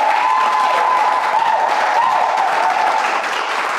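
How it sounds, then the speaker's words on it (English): An audience claps and cheers continuously, a dense, loud wash of applause with no break. "a round of applause, ladies and gentlemen."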